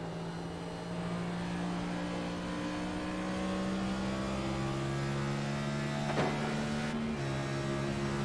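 Race car engine in a Cup Series racing game at Phoenix: a steady, droning engine tone that slowly rises in pitch, then dips sharply near the end as the car goes through a corner, with no talk.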